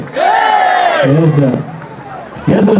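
A crowd at an outdoor village mud-day gathering roars a loud chant for a local figure, a sustained shout that breaks off, then a second burst of voices starts up.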